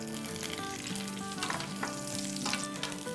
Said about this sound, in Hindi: हमारे पास जो तेल पड़ा हुआ है ना, उसमें मैं थोड़ी सी सौटे कर लेती हूँ फॉर एक्स्ट्रा फ्लेवर